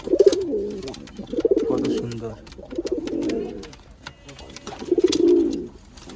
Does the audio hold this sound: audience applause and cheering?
no